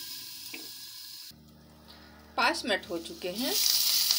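Aloo parval (potato and pointed gourd) vegetables with spices fry in a pan, a soft hiss that fades and then returns stronger at the end, under someone speaking briefly.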